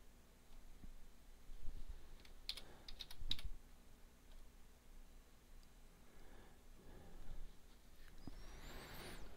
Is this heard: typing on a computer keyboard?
yes